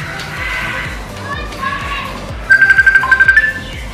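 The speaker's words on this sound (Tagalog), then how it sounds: "Yung mama ko tumatawag sa messenger. Nag-group call pa." A smartphone rings with a Messenger group-call ringtone, a quick run of bright repeating electronic pulses in the last second and a half, rising over children's chatter and playing nearby.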